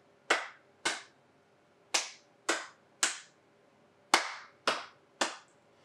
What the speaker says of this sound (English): And we hear those claps happen over and over again.